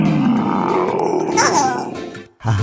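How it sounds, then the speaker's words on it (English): Cartoonish elephant sound from Mario's Alphabet app game, a loud roaring trumpet-like call lasting about two seconds, cut short by a brief gap and a second burst. "Elephant!"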